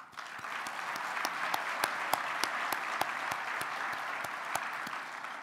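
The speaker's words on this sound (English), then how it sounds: "Please join me in a round of applause for their exceptional work." Audience at the Port of Long Beach State of the Port 2019 event claps steadily and evenly throughout, a sustained round of applause with scattered sharper claps standing out.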